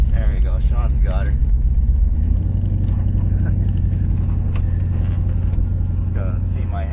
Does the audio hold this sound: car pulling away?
yes